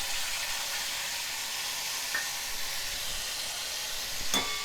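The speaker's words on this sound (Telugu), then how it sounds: "ఇది చక్కగా వేగనివ్వాలి" Tamarind frying in oil with chili paste in a pan for a bean pickle: a steady, dense sizzle runs throughout, close and even, with a couple of brief sharper crackles and no talking.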